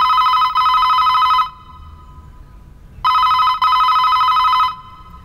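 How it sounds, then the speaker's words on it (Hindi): A telephone rings unanswered in a South Indian action film, sounding as two loud, steady electronic ring bursts separated by a short silent gap. "फोन नहीं उठा रहा"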